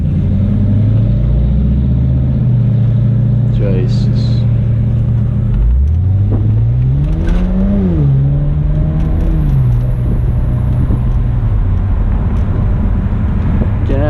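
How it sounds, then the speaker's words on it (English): A 2008 BMW 135i Convertible E82 engine revs up and down close by under steady road rumble, with one rising and falling surge in the middle and a brief spoken exclamation. "Now listen to this V8 here."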